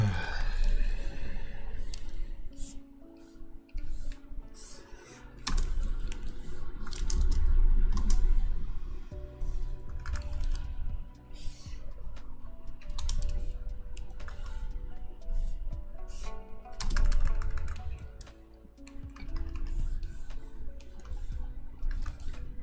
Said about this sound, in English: I'm wondering if the tablet and keyboard noises are annoying.